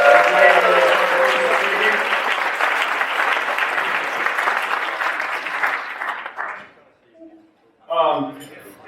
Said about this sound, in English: how about a round of applause for the wait staff this evening here in the pavilion?